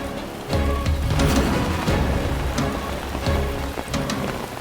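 Steady, heavy rain pours down, a dense broadband hiss with scattered louder drops and splashes, close and continuous with no voices.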